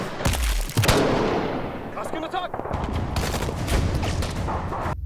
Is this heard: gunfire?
yes